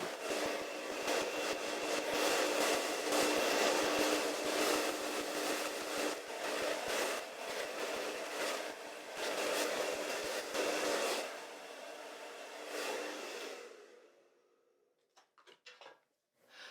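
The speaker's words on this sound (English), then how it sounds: "Now I'm going to continue to power dry my hair" A hair dryer blow-drying hair roars loudly and steadily for most of the clip, with slight fluctuations as it moves, then cuts off, leaving a few brief clicks and handling sounds.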